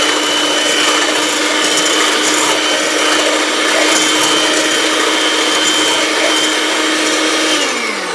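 Egg whites are whipped to the foamy stage, with a loud, steady whirring motor drone running without a break and easing off at the very end.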